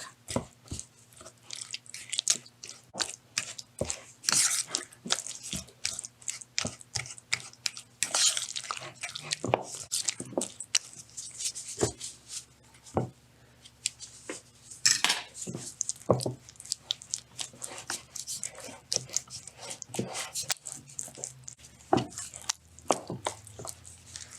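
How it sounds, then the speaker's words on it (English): Beans being mashed with a fork in a bowl, heard as a steady run of quick, close clinks and scrapes of metal on the dish, with soft squishy thuds mixed in and no talking. "Here we are using a fork and just move the bowl around and continue mashing with the fork"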